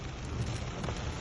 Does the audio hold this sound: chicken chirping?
no